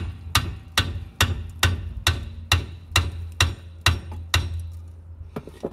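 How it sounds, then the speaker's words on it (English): A hammer strikes the hub of an Audi TT Mk1 during suspension work about ten times in a steady rhythm, each blow sharp, loud and close, ringing briefly against the hub. "And a bit of persuasion with a hammer."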